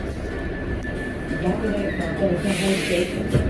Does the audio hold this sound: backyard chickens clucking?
no